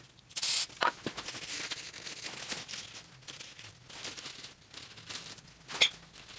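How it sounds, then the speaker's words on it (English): Duplicolor paint prep spray is applied to the rocker pinch weld of a 2015-2020 GMC Canyon or Chevy Colorado, heard as a short sharp aerosol hiss, a second brief burst near the end, and faint rubbing and handling noises between. "the next step is to use that Duplicolor paint prep spray and then wipe it off with a terry cloth"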